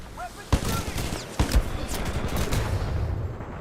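Gunfire in the Star Citizen game: two sharp shots stand out early, then scattered reports continue under a steady din, with voices talking over the action.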